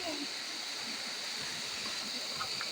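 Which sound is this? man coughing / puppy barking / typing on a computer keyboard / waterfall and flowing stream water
waterfall and flowing stream water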